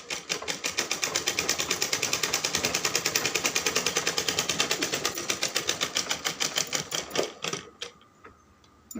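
A sewing machine runs fast and steadily for about seven seconds, stitching a sleeve joint on a garment, then its needle slows into a few uneven beats and stops. No voices are heard.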